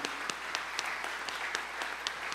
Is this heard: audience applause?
yes